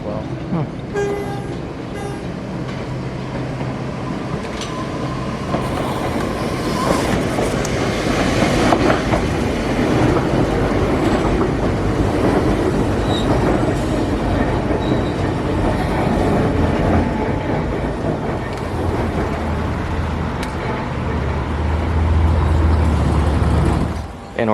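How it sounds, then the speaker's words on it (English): A Tokyo suspended monorail, an electric train hanging from an overhead rail, passing by with a steady rising rumble and rattling hum that swells over many seconds, close and loud, with a brief horn-like toot and street noise around it. "And here comes a train."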